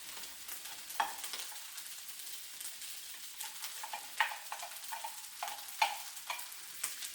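Egg white stirred into scallop fried rice in a hot pan, a steady broadband sizzle with soft scraping stir strokes and a few sharper utensil clicks, close and moderately quiet, no talking.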